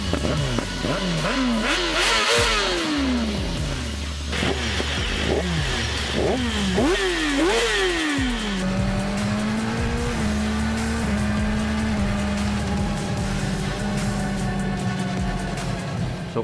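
A 2016 BMW S1000RR motorcycle with an SC Project Conic slip-on exhaust, revving hard through repeated rising and falling sweeps before settling into a steadier high-pitched run, loud and close with no talk.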